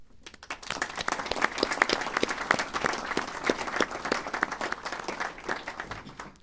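Applause at a university recognition ceremony for a minister: a large audience clapping in a dense, sustained wash that swells quickly and holds steady, with faint crowd murmur underneath.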